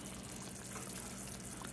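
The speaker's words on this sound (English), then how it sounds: "Pour this gravy back in this bowl." Gravy poured from a pan back into a bowl, a faint, continuous liquid trickle and splash lasting under two seconds with no talk.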